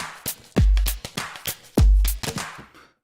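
A plastic bottle drum kit preset on the Punch-2 synth plays a punchy electronic pattern: two deep booming kick hits among crisp clicky and snappy percussive strikes, loud and close, with no speech.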